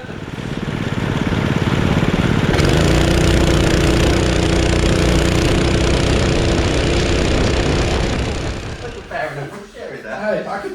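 The Anarchykart 2, a road-legal go-kart, idles with a steady buzzing engine drone that holds loud and even for about nine seconds, then drops away as voices take over near the end.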